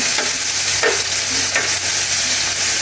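Onion hits a hot pan for a breakfast dish, giving a loud, close, steady sizzle with a few soft stirring scrapes and no talking.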